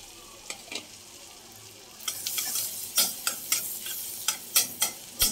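Chopped garlic frying in refined oil: a steady sizzle that grows louder halfway through, overlaid by regular scraping strokes of a spatula against the pan, close and without talk.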